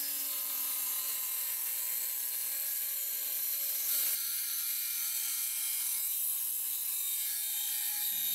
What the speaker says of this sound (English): So I'm going to start with the Dremel.